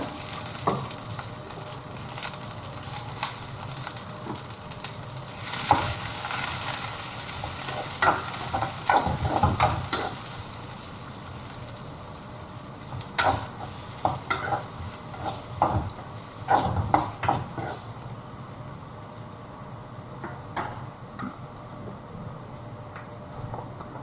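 A large chopped onion fries in a pan for a buttermilk okra curry, with a low, steady sizzle broken by scraping stirs and light clinks against the pan.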